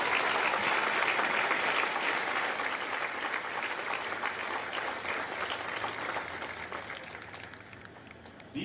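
Audience applause for the drill instructors of Eagle Battalion at a Marine Corps Recruit Depot San Diego Echo Company graduation, a dense, steady crowd clapping that fills the whole stretch and eases slightly toward the end.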